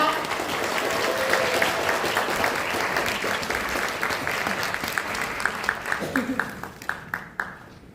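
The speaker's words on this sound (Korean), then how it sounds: "큰 박수로 모시겠습니다." A crowd at a political party's local report meeting gives a loud, sustained welcome for an arriving speaker. The clapping holds steady, then breaks into scattered claps at the end, with voices underneath.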